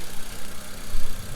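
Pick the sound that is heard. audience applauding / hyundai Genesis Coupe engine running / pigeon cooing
hyundai Genesis Coupe engine running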